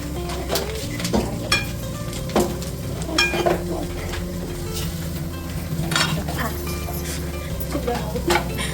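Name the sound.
cashews added to sizzling pan for ghee rice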